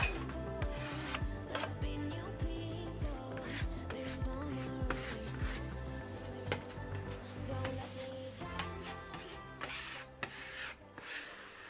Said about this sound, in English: So I'm just scraping most of this off.